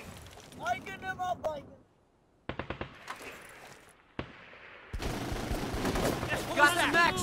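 Suppressing gunfire in the tactical game Full Spectrum Warrior: a short burst of sharp rifle shots, then louder sustained battle noise, with radio-style voices talking before and over the firing.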